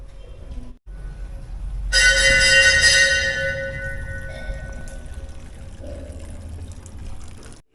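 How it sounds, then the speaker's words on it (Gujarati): Water trickles and pours continuously inside the Gupteshwar Mahadev cave, an echoing steady flow with a bright bell ringing out partway through. "ગુફાની અંદર ફરતી બાજુ પાણી નીકળે છે"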